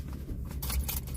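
Keys jangling close by, attached to a backpack, a brief bright metallic rattle of about a second with a low car-interior rumble underneath.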